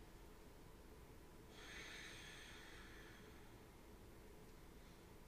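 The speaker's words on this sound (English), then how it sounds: "exhale, squeeze the air in and up, exhaling all the way up your spine and exhaling through the nose" A single breath pushed out through the nose during a yoga flow, a brief soft airy rush lasting about a second, close and quiet over a faint hiss of background noise.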